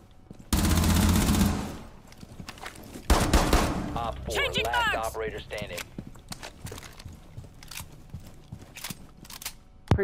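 Bursts of video game gunfire ring out during a firefight, a loud rapid volley up front, then another burst followed by scattered shots and clicks.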